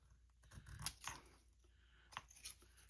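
Big scissors snip through paper while trimming corners for craft ephemera, producing a few crisp, close cutting crunches spread across a quiet stretch, with soft handling noise between cuts.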